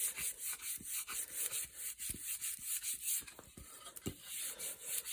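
Repeated rubbing strokes on a Browning B26 Liege wooden gun stock as excess finish is wiped off, close and quiet, with a steady back-and-forth rhythm of soft scraping friction.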